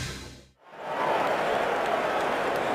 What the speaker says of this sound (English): this crowd is charged up